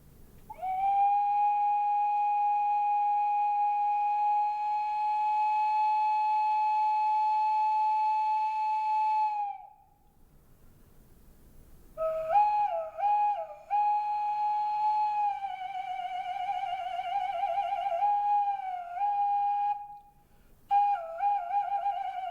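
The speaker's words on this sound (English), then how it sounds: "This particular whistle belongs to the Maya culture, comes from Guatemala, and this is its sound" A Maya clay whistle from Guatemala sounds alone in two long blasts: first a steady, pure held tone for several seconds, then after a pause a wavering, pitch-bending tone with brief dips and breaks.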